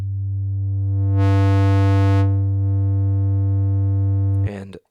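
Steady sine-wave tone fed through a distortion effect in the Serum synth as drive is raised, gaining a bright buzzy harmonic layer partway through, then thinning slightly; loud and sustained, ending with a brief burst of speech.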